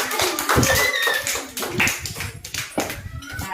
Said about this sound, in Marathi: छान छान टाळ्या वाजवा सगळ्यांनी.